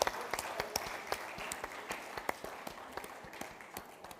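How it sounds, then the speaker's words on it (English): Audience applause at a panel discussion on funding democracy in Africa, scattered hand claps thinning toward sparse individual claps, moderately close and fairly quiet, with no talk over it. "let's keep clapping"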